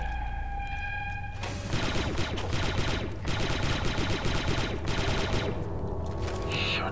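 Blaster rifle fire in Star Wars Republic Commando, rapid bursts of repeated shots in long streams with short pauses between, loud and dense over faint background game sounds.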